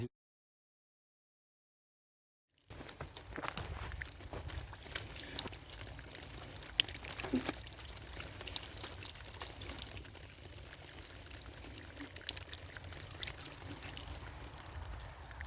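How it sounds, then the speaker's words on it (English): Water trickles down through moss along an outdoor path, a steady soft pouring and dribbling sound that starts after a few seconds of silence and continues close to the microphone. "All of the water just gets filtered down through the moss, and it's absolutely delicious."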